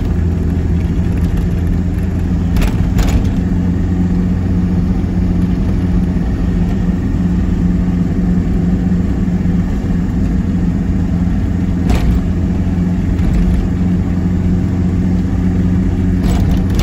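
Steady low rumble of a camper van engine while driving, loud and continuous with road drone, plus a few brief clicks or knocks along the way.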